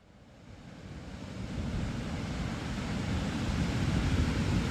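Ocean surf at Moonstone Beach builds from quiet to a steady broadband roar of breaking and washing waves, with some wind noise, continuous and unbroken with no voices.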